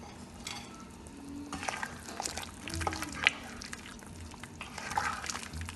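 Yam porridge being stirred in a cooking pot, soft scraping and watery sloshing with small clinks and bubbling, fairly quiet and close, uneven and intermittent over several seconds.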